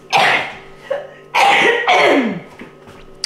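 A sneeze or two in a home kitchen while cooking slow cooker ranch chicken quarters, several sharp loud bursts close by with short gaps between them.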